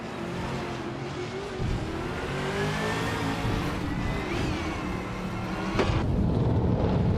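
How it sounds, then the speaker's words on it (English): A race starts in a video game with a field of 2021 Ford Mustang Trans Am cars, engines roaring and revving together in a dense, rising wash of sound with tire squeal and shifting pitch throughout. "The race has just kicked off at La Sitzering GP, and Numio is starting in pole position driving a 2021 Ford Mustang in the Trans Am class."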